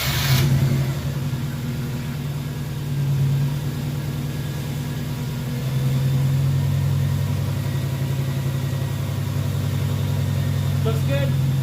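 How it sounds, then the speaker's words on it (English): A 1998 JDM Subaru Legacy 2.0L wagon engine idles just after a belt and idler replacement, a steady low hum holding close and even for the whole stretch, with a voice speaking over it. "I'm gonna start the engine. See if there's any noise."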